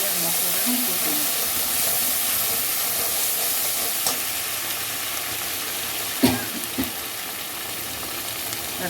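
Red chilli paste masala frying in a pan over medium heat, a continuous close sizzle and hiss with occasional sharp spatula scrapes and knocks, no speech.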